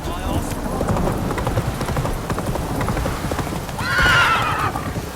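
A horse gallops with a steady clip-clop of hooves in The Witcher 3, breaking into a sharp whinny near the end, while rain and a man's speech run underneath.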